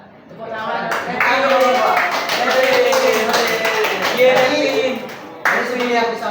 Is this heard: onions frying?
no